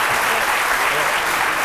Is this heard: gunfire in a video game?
no